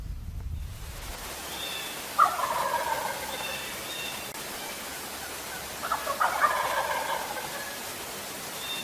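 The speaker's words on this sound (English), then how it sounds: "Heard 4 gobblers in here, 2 straight in for me, 2 to the north." Wild turkey gobblers gobble twice in the distance during a turkey hunt, each a rapid rattling burst, over steady outdoor background noise.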